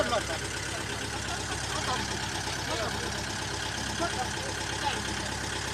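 A 47 hp Kubota farm tractor engine idling nearby, a steady low mechanical chug with even pulsing throughout, while someone talks over it.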